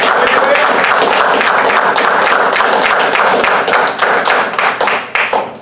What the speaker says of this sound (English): let's give a round of applause to our newest Dirtboyz